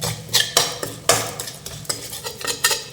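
Cooked rice stirred into lemon rice seasoning with onions in a pan, a spoon scraping and clinking against the metal in a run of irregular close scrapes and taps, no voices.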